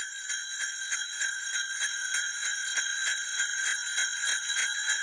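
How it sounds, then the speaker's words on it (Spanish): Bright metallic sleigh bells jingle continuously in a quick, shaking rhythm, steady and fairly close, with no voices. "Niño espera el tintineo de las campanas del trineo de Santa."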